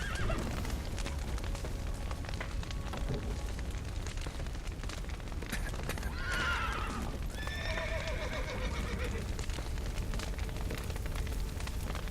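In The Witcher video game, horses whinny in shrill bursts over a dense roar of crackling fire and clattering hooves in a burning stable with a collapsed roof, loud and chaotic.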